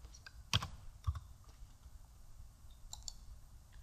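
Computer mouse clicks while working in lab software, a couple of sharp, close clicks early on and another faint pair later, with quiet room tone between.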